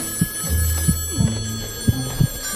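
A telephone rings in a radio drama, a series of short bell-like trills repeating every fraction of a second, clear and close with no talk over it.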